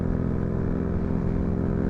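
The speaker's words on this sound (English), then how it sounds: "you guys can just hear the pure sound of the Yamaha with the exhaust" Yamaha 125cc motorcycle with aftermarket exhaust, steady loud engine drone from a rider-mounted position, even and continuous with no talking.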